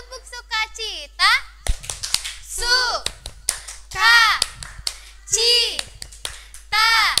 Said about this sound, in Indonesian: Oke, coba kita tepuk sukacita ya.